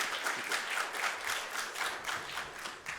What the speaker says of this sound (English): Can we have a warm round of applause for Damien?